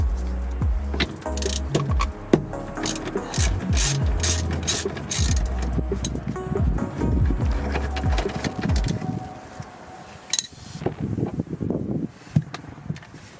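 A ratchet clicks in quick, uneven bursts while loosening the steering wheel nut on a 1991 Honda Civic wagon, close up with metallic rattles and a few louder clanks near the end.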